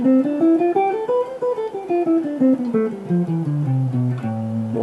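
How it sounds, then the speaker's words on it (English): A single melodic instrument plays an A natural minor (Aeolian) scale, stepping up note by note and back down in an even rhythm, close and clear with no voices. "Here's an A natural minor scale, or A Aeolian Mode."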